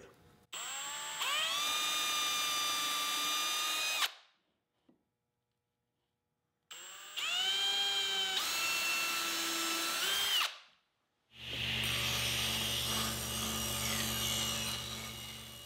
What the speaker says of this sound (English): The next step is to pre-drill a small hole for the screw.